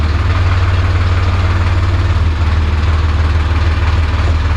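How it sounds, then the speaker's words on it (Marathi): A 42-horsepower tractor engine idles steadily and loudly nearby, a deep continuous rumble with a low throbbing pulse and no voices. "पार्किंगला ना ट्रॅक्टर लावायला आलेलो आहे"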